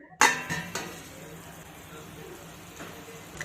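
A metal lid clanks onto a kadhai of cluster beans simmering on low gas, a sharp clatter followed by a couple of softer knocks, then a quiet bubbling simmer underneath.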